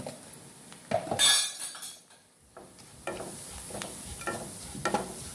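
Spice powders are fried in oil in a pan for a mussel curry, with a soft sizzle, a metal spoon clinking and scraping, and irregular stirring sounds close by.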